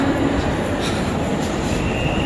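A moving Konkan Kanya train on the Konkan Railway rumbles loudly and steadily nearby, with a faint metallic squeal riding over the clatter.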